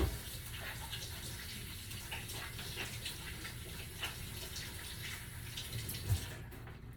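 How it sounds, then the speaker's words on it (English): Hands being washed at a sink, running tap water splashing steadily at moderate distance with small bumps and splashes, no talk. "and get my hands washed."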